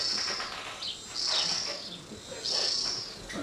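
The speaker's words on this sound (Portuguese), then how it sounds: "Parece uma cigarra, não é passarinho." A cicada sings in bursts of shrill, high buzzing, swelling and fading about three times, moderately loud with faint background noise and no talk.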